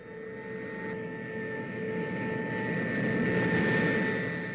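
Steady, loud drone of a Russian bomber's engines in flight, a continuous broadband roar with sustained tonal hum that swells slightly toward the end, heard alone without voices.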